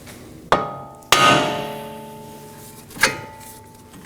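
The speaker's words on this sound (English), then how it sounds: "we can proceed to hitting the knuckle with a hammer in this portion" Three sharp metallic hammer blows ring out on the steel steering knuckle of a 2018-2024 Chevrolet Equinox, freeing the ball joint, each followed by a lingering ringing tone, the second strike loudest.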